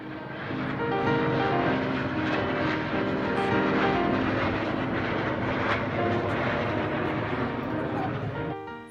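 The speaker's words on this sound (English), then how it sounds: "we also got to see the Blue Angels perform their air show" Blue Angels jet aircraft performing at an air show give a loud, steady roar that fills the whole stretch, with voices talking underneath.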